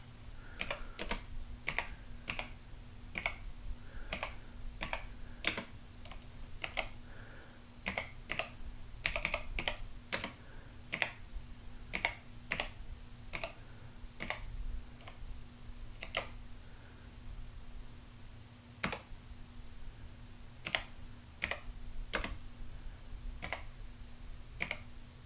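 Keys clacking on the built-in keyboard of a 1982 Epson HX-20 laptop computer as a program is typed, irregular sharp close taps in short runs with brief pauses, over a low steady hum.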